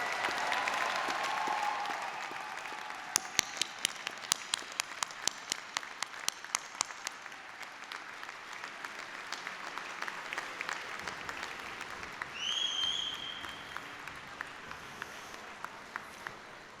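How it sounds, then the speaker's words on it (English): A commencement audience at a business school graduation gives a long, broad wash of applause, with a few sharper individual claps standing out early on and a faint whistle or cheer partway through before the clapping slowly fades. "join me in giving your family and friends a round of applause"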